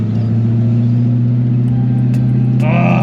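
Steady, loud low engine drone from a 1967 Ford GT Falcon heard from inside the cabin while cruising, with a brief higher-pitched sound near the end.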